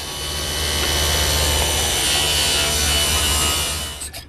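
A power saw cuts a bevel along the bottom edge of a vertical wooden piece, one loud continuous cut that runs steadily for several seconds and then winds down.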